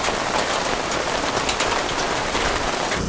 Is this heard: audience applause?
no